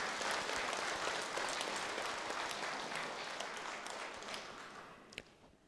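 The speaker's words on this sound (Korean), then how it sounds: "새로운 출발하는 위 두 쌍의 신혼 부부를 위하여 힘찬 박수 부탁드리겠습니다" An audience at a Buddhist dharma service applauds two newlywed couples with steady, dense clapping that holds for several seconds and then slowly thins out, with no talking over it.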